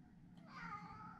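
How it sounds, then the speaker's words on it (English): A house cat lets out a single drawn-out meow indoors, close and moderately loud, swelling near the middle of the brief moment with no other sound around it. "we got in the house MHC, Money Hungry Cat."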